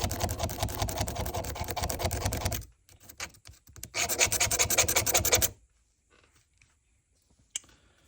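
A knife's inside is scrubbed to clear built-up residue in a shop, giving two close, steady bursts of dry rasping friction separated by a short pause, then near silence with a faint tick at the end.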